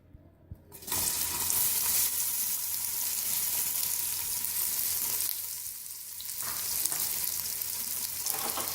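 Chopped onions frying in a cup of hot oil for chicken pulao, starting with a brief quiet moment and then a loud, steady, close sizzle that holds throughout with slight swells.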